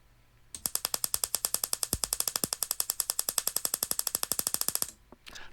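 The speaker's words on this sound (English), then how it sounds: "When I turn the power on, you can hear a slightly muted clicking noise." A rapid, steady train of sharp, slightly muted clicks from a spark jumping through wet cardboard to a tin, about ten per second for roughly four seconds, starting and stopping abruptly in a quiet setting.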